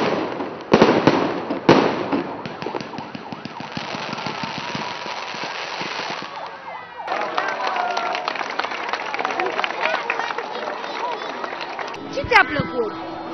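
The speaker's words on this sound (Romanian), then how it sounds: "au putut asista minute bune la un inedit foc de artificii" A fireworks display outside a county museum in Argeș, Romania, with sharp bangs and crackling bursts through the first seconds, then a busier mix of pops, crowd noise and voices talking nearby.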